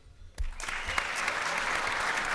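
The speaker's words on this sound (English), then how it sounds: "Let's give all 6 of these young men a nice round of applause." An audience at a student panel event bursts into sustained applause after a few scattered claps, a steady, moderately distant wash of clapping with no talk over it.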